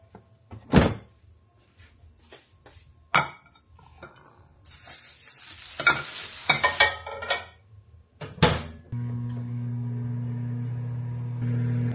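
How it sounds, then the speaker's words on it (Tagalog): A microwave reheats previously cooked food such as quinoa in a home kitchen. It starts as a steady, loud hum near the end of the clip, after scattered clinks and knocks of dishes, utensils and a door. "Iinitin ko lang sa microwave."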